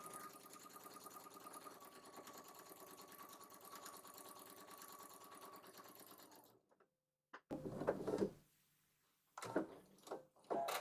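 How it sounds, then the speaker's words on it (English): Sewing machine stitching the border block of a quilt, a fast steady motor whir for about six seconds, then stopping, followed by a few loud handling clunks and fabric shifting nearby. "We're just going to sew right down here."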